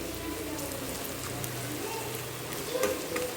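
Paste of garlic, ginger and coconut sizzling and frying in a hot pan for a potato-brinjal curry, a steady low crackle with light stirring, close and fairly quiet.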